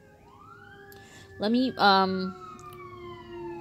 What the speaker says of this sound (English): I don't know if you can hear those sirens that are just going nuts there